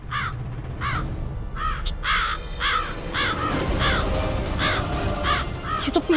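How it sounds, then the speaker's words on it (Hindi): A crow caws repeatedly nearby in a steady series of harsh, rasping calls spaced about half a second apart, over a low background hum with no speech. "ये कौवा कहाँ से आ गया?"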